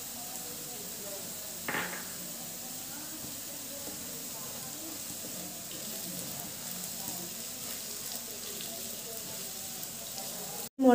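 Onions with chili powder and turmeric sizzle and hiss steadily in a hot pan for a prawn fry. The frying is continuous and fairly even, with a brief clatter near the start and a sharp knock at the very end.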